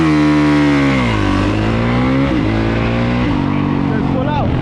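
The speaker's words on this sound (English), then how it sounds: "Raise your RPM." Dirt bike engine revving loud and close, its pitch climbing and dipping across several throttle blips, with a voice talking over the engine.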